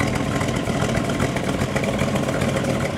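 A 1958 Chevy Nomad wagon's engine idling with a steady, even rumble and exhaust drone, heard close and alone.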